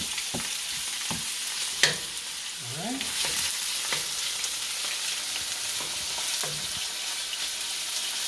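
Steady crackling sizzle of chicken pieces frying in hot oil, with occasional clinks and a brief word spoken softly.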